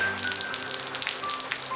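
Rain falls in a steady patter of drops hitting a surface, close and even, with a faint tonal hum in the background and no speech.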